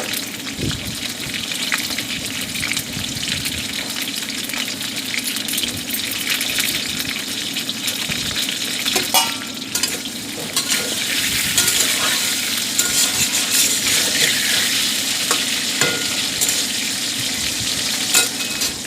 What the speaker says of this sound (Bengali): আলুটা খুব ভালো করে গোল্ডেন কালার করে ভেজে নেবে